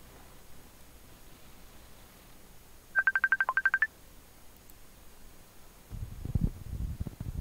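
Phone keypad beeps a rapid string of about ten short touch-tone digits to place a call back, clear over faint line hiss, followed by a low rumbling noise.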